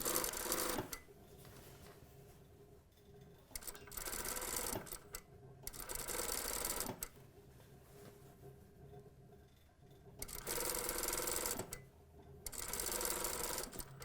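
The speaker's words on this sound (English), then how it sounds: "I start sewing somewhere, keep going." Sewing machine stitching a circle drape in fabric, whirring in several bursts of about a second or two each, with short quiet gaps between them; close and clear with no talking.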